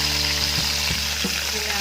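Cumin and red chilli tempering frying in hot oil for a kadhi pakora, giving a continuous close sizzle with a faint steady hum beneath it.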